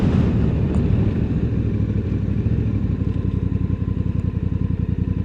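A 2024 Honda Africa Twin Adventure Sport DCT motorcycle rumbles loudly and close, its engine note swelling in repeated short throttle blips that turn into a choppy, pulsing beat toward the end.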